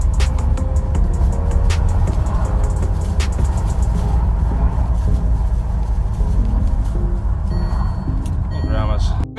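Continuous rumbling road noise from inside a Range Rover Evoque on a road test, a steady low drone with occasional clicks and a faint beeping near the end.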